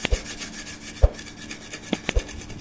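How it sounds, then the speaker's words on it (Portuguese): Someone scrubs a dirty pressure cooker pot clean, making sharp knocks and brief rasping strokes that come at irregular intervals, close and fairly loud. "Vou limpar aqui a panela bem direitinho"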